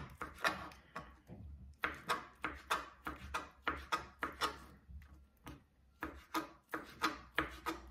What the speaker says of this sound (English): I took only half a package of crab sticks and I also cut them into pieces